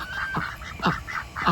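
Several loud honking calls from Cayuga ducks on a farm, three or four harsh nasal honks spaced in a loose rhythm, close to the microphone with no talking.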